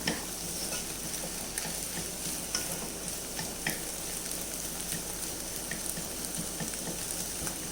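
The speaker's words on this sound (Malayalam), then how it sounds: "മുട്ടയൊക്കെ ഒന്ന് നല്ലതുപോലെ വെന്ത് വരുന്നവരെ ഇടയ്ക്കൊന്ന് ഇളക്കി കൊടുക്കാം" Eggs fry and sizzle in a pan while being stirred for a drumstick-leaf egg curry, cooked open like a scramble; a steady close crackle runs throughout with light scraping of the spoon.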